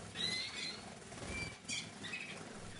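Birds flutter and flap their wings inside an outdoor flight aviary on an allotment plot, soft repeated wingbeats and rustles over a steady background hiss with a faint chirp.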